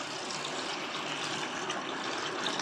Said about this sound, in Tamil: இப்போ சோளம் வந்து மூழ்கிற அளவு தண்ணி சேர்த்துக்கலாம்